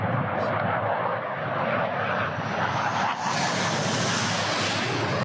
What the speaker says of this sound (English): we also hear the jets around. There's like fighter jets all over.